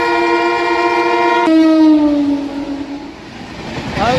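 Amritsar Chandigarh Intercity Express sounds a long, loud two-tone horn while passing close by, the pitch dropping partway through as the train goes past, with rail rumble continuing underneath.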